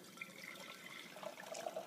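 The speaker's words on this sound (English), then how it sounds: "We're going to spin like this, and we're going to pour it back so that we can serve it well." Brewed pour-over coffee, about 400 millilitres, is poured back to aerate it, making a soft continuous trickling splash with faint gurgles, close and quiet.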